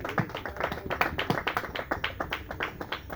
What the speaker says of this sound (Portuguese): palmas a Cristo Jesus